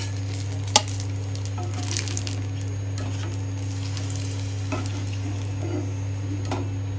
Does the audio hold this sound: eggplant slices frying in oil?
yes